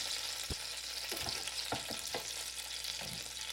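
Bacon-wrapped chicken tenders sizzle steadily in an air fryer, a constant crackling hiss broken by a few scattered thumps and clatters as the pieces are handled, with no voices.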